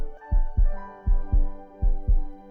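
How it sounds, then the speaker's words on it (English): A heartbeat sound effect from the visual novel Parquet thumps in three low double beats, lub-dub pairs at a slow steady rhythm, close and prominent over a soft sustained musical tone. "I feel her heart beating even more intensely."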